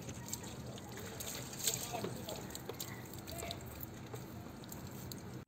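Clean water rinsing toothpaste off a yellowed car headlight, a soft continuous trickle and slosh under a steady background hiss, with a faint voice.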